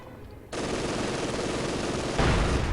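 Machine gun fire in Company of Heroes 2, a continuous rapid burst that starts abruptly and runs for over two seconds, then gets louder near the end with a heavier crack.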